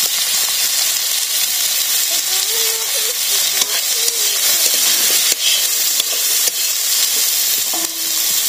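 Raw spices and onion sizzling loudly in hot oil in a pan, a dense steady hiss with occasional stirring scrapes, close and continuous, no talking.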